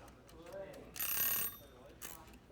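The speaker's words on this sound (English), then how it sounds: "I could set the timer off" A dog-training timer goes off during a K9 session, giving a short burst of harsh electronic ringing followed by a briefer second burst, against quiet background.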